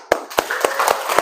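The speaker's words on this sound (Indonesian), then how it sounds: "tolong diapresiasi, tepuk tangan" A handful of sharp, distinct claps in a classroom, spaced roughly evenly about a quarter second apart, loud and close with a faint murmur of voices between them.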